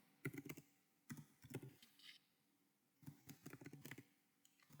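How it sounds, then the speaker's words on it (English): Someone types on a computer keyboard in short bursts of rapid key clicks separated by quiet pauses, close and fairly soft, ending with one louder knock. "you'll want to type in your username"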